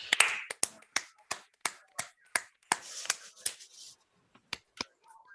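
Scattered claps from an online audience unmuting after a mathematics talk on Ramsey properties of string graphs: a dozen or so sharp, separate hand claps spread unevenly over several seconds, close and fairly quiet, with no talking.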